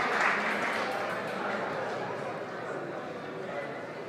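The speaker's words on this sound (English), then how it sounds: "We hear a loud cheer for them." A crowd at a youth bouldering cup final in Kaunas cheers and claps in a continuous wash of noise that peaks early and then settles to a steady roar, with an announcer speaking over it.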